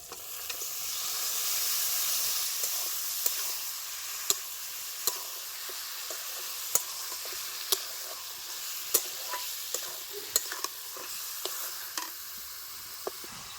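Goat meat sizzles as it hits fried spices in a pan, with a steady hiss and regular sharp clicks from stirring spread across the whole stretch.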